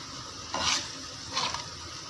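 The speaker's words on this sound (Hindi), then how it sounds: "ये देखिए हम इसको अच्छे से मिक्स कर देंगे, हल्के हाथों से हलाना है ताकि ये चावल टूटे नहीं" Sweet rice in syrup is stirred gently in a pot, giving two soft, brief scraping swishes over a faint background hiss, with no talking.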